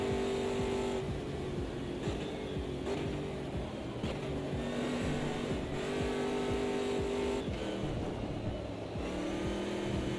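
Race cars in the sim racing game Automobilista 2 roar continuously with layered engine tones, shifting pitch through gear changes as several cars run close together, steady and loud with no speech.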